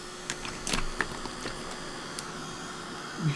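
A heat gun runs steadily for heat embossing powder on a craft tag, giving a faint, even whirring hiss with a few small clicks and knocks on top.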